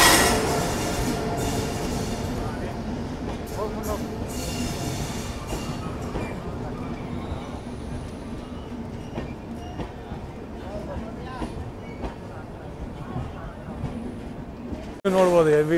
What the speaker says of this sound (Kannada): Gol Gumbaz express arriving at Bengaluru city railway station.